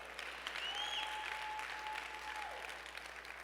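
A church congregation claps together in a sparsely filled sanctuary, an even, moderately quiet patter of hands with a faint whistle-like tone drifting through, steady from start to finish.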